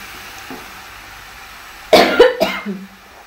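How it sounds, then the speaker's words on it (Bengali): A person with a bad cough lets out a close, harsh burst of two or three coughs, with a faint household cooking background underneath. "প্রচণ্ড কাশি হচ্ছে, বিরক্ত লাগে"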